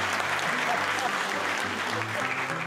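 A live storytelling show audience claps steadily, a dense continuous round of applause with some low voices mixed in underneath.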